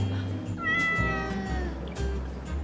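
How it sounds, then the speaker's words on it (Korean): A cat meows close by, a clear drawn-out cry in the middle of a quiet indoor scene, with faint low noise around it. "이제 고양이야"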